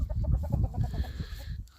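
A guinea fowl, an African game bird, calls on a farm in a quick run of rhythmic, harsh clucking notes that slow and fade toward the end.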